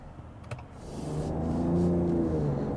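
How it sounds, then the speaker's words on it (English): A few light clicks, then a 2025 Ram pickup truck engine accelerates with a rising whirring, whooshing intake and turbo spool, loud and close, holding at a strong drone. "Wow, the intake noise. The turbo, you can hear the turbos."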